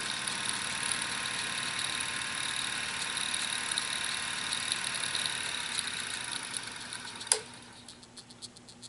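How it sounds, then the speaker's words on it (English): An automatic coil winding machine with a traverse hums and whirs steadily with a high mechanical whine, then abruptly stops with a click, leaving quieter ticking. "I'm going to turn the machine on and I'm going to run this"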